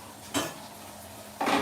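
Dishes and cutlery clink together in a kitchen sink of hot water, two brief metallic rattles a second apart, near and fairly quiet, with no talking.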